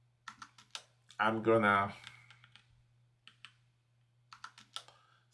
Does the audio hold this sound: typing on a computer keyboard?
yes